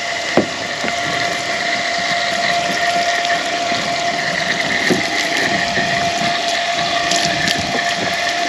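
Steady running water splashing while a 1967 Chevy is washed outdoors, a continuous loud hiss and patter with a faint tonal hum beneath and no talking.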